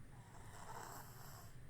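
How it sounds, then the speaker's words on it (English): A baby who is just getting over a cold snores softly and steadily in a quiet room, a faint continuous breathy rasp with no talking. "I got one baby snoring."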